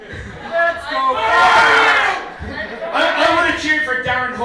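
A live comedy-show audience imitates a Norwich wrestling crowd, bursting into loud whooping and cheering voices in two waves, near and raucous with shouted yells.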